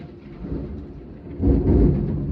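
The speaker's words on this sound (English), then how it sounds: "I wasn't expecting that crack of thunder just now." A deep crack of thunder rolls through steady rain, the rumble swelling louder halfway through and lingering to the end.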